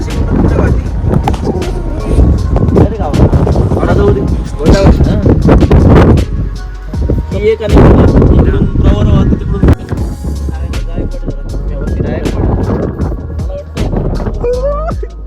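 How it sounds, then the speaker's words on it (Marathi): Strong gusting wind on the tall Raghoji Bhangre bridge buffets the microphone in loud, rumbling bursts while a person speaks over it. "पुलावर उभे असताना खूपच जोराचा वारा अनुभवायला मिळतोय"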